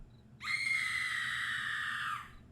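In an audio drama, a woman lets out a blood-curdling scream, a single shrill, piercing cry held steadily for nearly two seconds before cutting off, standing alone over quiet background.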